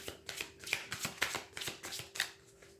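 A deck of tarot cards is shuffled before a reading, giving a quick run of crisp riffling bursts in a steady rhythm, close but quiet, with no voices over it.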